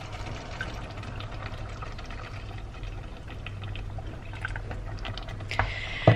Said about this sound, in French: Et donc là je vais venir rajouter de l'eau.